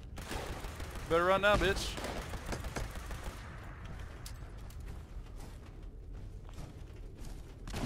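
Grenade launcher rounds fire and burst in a video game, giving a rapid fusillade of loud booms and mechanical clacks early on, followed by a rumbling tail, with a voice shouting over the gunfire.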